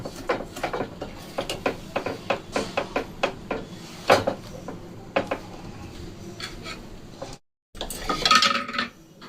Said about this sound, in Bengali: এইভাবে সমানে নাড়িয়ে নিতে হবে, আর বারবার এইভাবে সাইডগুলোকে পরিষ্কার করে করে নিয়ে নিতে হবে